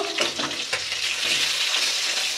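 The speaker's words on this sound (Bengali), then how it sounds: "এবার আমি মাছগুলো উল্টিয়ে নেব।" Fish frying in hot mustard oil in a wok sizzles steadily and loudly, with a few scraping clatters as the pieces are turned over, and no voices are heard.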